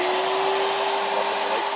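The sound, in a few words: shop vac running with Harbor Freight sandblaster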